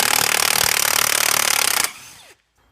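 An impact gun hammers off a 30mm multi-splined drive shaft hub nut, a loud rapid rattling burst for almost two seconds close up, then a brief fading whir as it stops.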